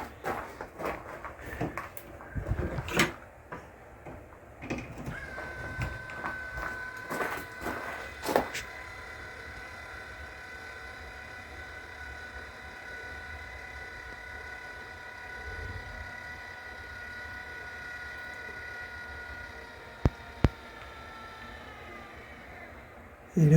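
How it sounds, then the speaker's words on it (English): An electric-motor exhaust fan mounted in a greenhouse is switched on after some handling clatter, its steady motor hum and whir rising and holding for many seconds, followed by a couple of sharp clicks near the end. "It's got the electric motor on it, and it's ready to go, and we'll plug it in over here and see what it does."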